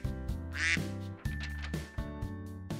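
Ducks quack several times in quick bursts as a cartoon sound effect in an animated children's story, with a bright, nasal honking that repeats in short separate calls against a faint tonal background.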